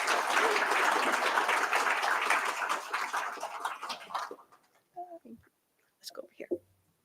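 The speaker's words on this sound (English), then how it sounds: "Let's give her a round of applause" Audience applause for award winner Shelby at a student success awards ceremony: dense, loud clapping for about four seconds that fades out, followed by brief scattered voices and small sounds.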